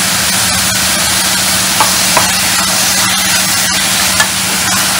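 Tomato and ginger garlic paste sautéing in a pan for a country chicken curry, a loud steady sizzle and hiss with a few sharp stirring clinks, close up and without talk.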